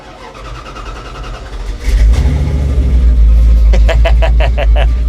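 A muscle truck engine cranks and fires into a loud, deep idle that holds steady, with short revving bursts near the end; faint talk sits under the start.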